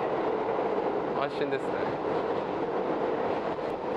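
A New York subway car riding on a weekday midday, carrying a steady rumbling roar of wheels and motion with faint clatter and brief squeaks, while someone speaks briefly over it.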